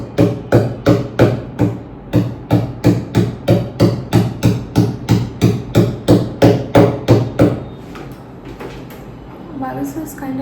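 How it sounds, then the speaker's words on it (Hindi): Nails are hammered in from the back during a room makeover, about twenty sharp, evenly spaced hammer blows at a brisk, steady rhythm, close and loud, followed by quieter handling noise. "ये कील पीछे से अंदर जाएंगे।"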